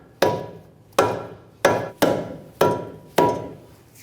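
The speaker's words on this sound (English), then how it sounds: "I'm going to use my dead blow hammer to go ahead and tap this up." Dead blow hammer tapping a front lower ball joint into place on a 2011-2015 Kia Sorento: six evenly spaced, sharp blows with short decays, clear and close with no talking.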